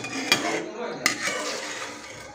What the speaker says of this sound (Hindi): तो ऐसे हम निकाल लेते हैं, इसे छान लेते हैं।